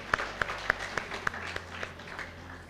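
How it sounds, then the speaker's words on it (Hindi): Applause from the audience at a teachers' award ceremony, with several sharp claps standing out over a faint, thin patter, fairly quiet and distant with no talking. "तो आप सभी के सम्मान में प्रणाम और ज़ोरदार तालियों से स्वागत।"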